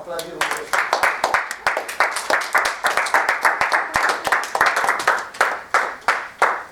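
A church congregation claps in acclaim for the Lord during a service, with loud rhythmic clapping in a steady beat throughout and voices mixed in beneath the hands.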